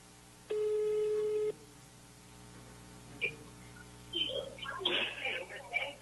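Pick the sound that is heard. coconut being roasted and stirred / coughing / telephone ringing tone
telephone ringing tone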